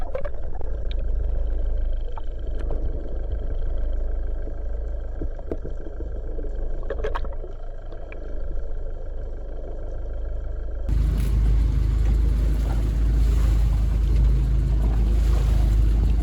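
Inboard engine of a sailboat running in gear, a steady low rumbling drone with a shaking judder, rising to a louder, rougher roar partway through as it works harder.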